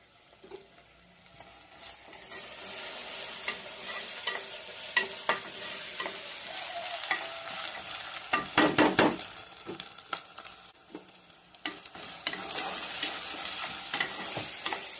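Onion with curry leaves and dried red chillies frying in a pan for a Telugu dry meat masala curry: a steady close sizzle with occasional stirring scrapes, swelling briefly mid-way, no one talking.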